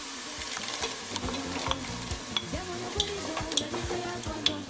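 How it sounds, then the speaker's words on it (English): Egusi (ground melon seeds) sautéed with cabbage and crushed tomatoes bubbles gently in a pot while a spoon stirs it, giving soft close scraping strokes and light clinks in an uneven rhythm over a low simmering sizzle, no speech. "Stir that and let it simmer here for about a couple of minutes"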